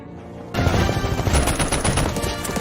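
Dense, loud bursts of machine-gun fire crackle right after a short quiet moment as henchmen are shot down in an action movie, sustained rapid shots filling the scene without any talk.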